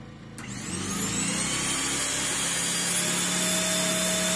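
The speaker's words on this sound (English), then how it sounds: "We'll try the vacuum cleaner here" A vacuum cleaner powered by a Pulsar 2300W/1800W portable generator starts and then holds a loud, steady, close motor whine with a constant high hum and no speech.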